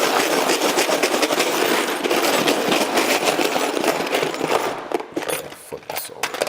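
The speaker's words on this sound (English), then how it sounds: "Let's pop it in there and give it a shake." An iPhone X shaken hard in a container with razor blades, bolts and screws: a dense, continuous metallic rattle and scraping up close that turns choppy and thins out toward the end.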